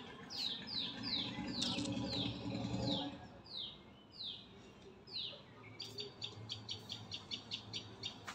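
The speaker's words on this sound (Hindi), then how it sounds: "अब आ रही है चिड़ियाओं की ची ची ची ची की आवाज" Birds chirp repeatedly at a distance at sunrise, with a run of descending whistled calls followed by rapid, quieter tweets over soft background hum.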